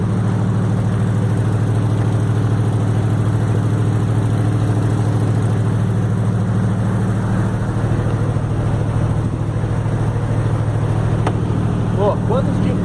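A V8 speedboat engine idles with a steady, loud, low rumble that holds evenly from start to finish, carrying no clear speech.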